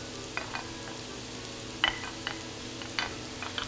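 Zucchini frying in a pan gives a soft, continuous sizzle, broken by a few light clicks and scrapes of stirring, fairly faint and with no voices.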